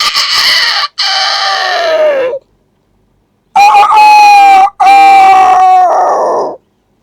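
A mimicry artist mimics a small young rooster's crow twice, each a strained, warbling call with short breaks, separated by a moment of silence.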